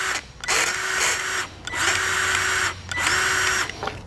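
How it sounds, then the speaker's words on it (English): A Milwaukee cordless grease gun pumps grease in three motor runs of about a second each, with short pauses between them, a close, loud whirring drone and no voices. "Now I've got a Milwaukee grease gun here."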